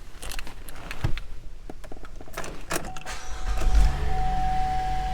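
Electric motor whine of a power window moving in a used 2016 GMC Acadia SLE, with clicks and a rising steady hum toward the end, close up with no talking.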